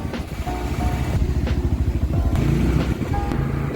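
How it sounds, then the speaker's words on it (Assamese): A motorbike rides through Guwahati city traffic in the evening, its engine droning steadily and close with a rhythmic throb, while other vehicles pass around it and a few faint horns sound. "এতিয়া চলাই আছে দেৱৰূপ দাই বাইক"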